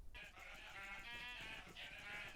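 Sheep bleating in the Minecraft video game, a quiet, nasal, wavering bleat that starts abruptly and holds for a couple of seconds with slight pulsing, heard alone.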